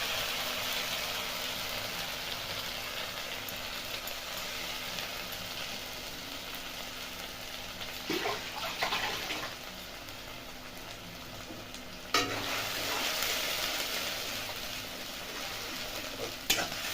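Ground spice paste frying in a pan for a Bengali-style dum aloo, a long steady sizzle with occasional scraping stirs and a couple of sharp utensil knocks, with no voices.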